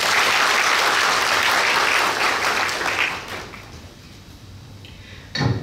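An audience at a provincial government training seminar in Nakhon Pathom, Thailand, claps to welcome a guest lecturer. The dense, loud applause holds for about three seconds, then tapers off into scattered faint claps.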